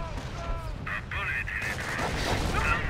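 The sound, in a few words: artillery barrage in video game Company of Heroes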